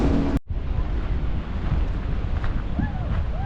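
Strong wind buffets the microphone along a seaside corniche in Safi, Morocco, a loud continuous roar with low rumbling gusts and a brief dropout early on, while a faint voice briefly rises near the end.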